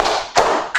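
A class of children doing a 3-2-1 clap pattern, with a few distinct claps or taps heard up close at an uneven rhythm.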